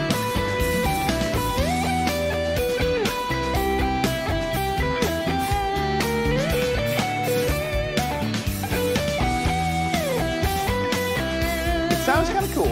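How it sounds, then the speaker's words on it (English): Guitar arpeggios ring out over a full backing track, with notes rolling continuously through steady chord changes at a moderate level, unbroken for the whole stretch. "Let's start with just playing the arpeggios with no fill-in notes"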